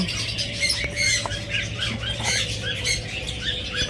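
Caged pet parrots, including lovebirds, budgerigars and cockatiels, keep up a close, busy stream of overlapping squawks and chirps over a low steady hum.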